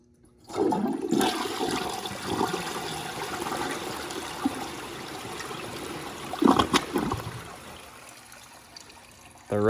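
A 2012 VitrA Evergreen toilet flushing, a close rushing surge of water that runs steadily for several seconds, with a louder gurgling swell near the end before trailing into trickling refill.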